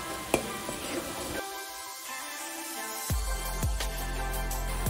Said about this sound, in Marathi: थोडा वेळ याला थोडंसं आपण फ्राय करू